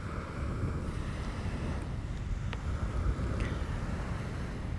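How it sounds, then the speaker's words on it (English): Water washing at a shoreline at sunrise, a steady, soft rush of waves mixed with low wind rumble on the microphone, continuous and without voices. "just be at the shoreline, be by the water, whether it's still or stormy"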